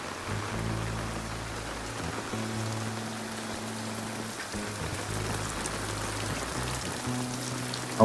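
Heavy rain pours steadily on the way to a Ganges riverside ghat, drumming close on an umbrella with a dense, even hiss and intermittent low patters.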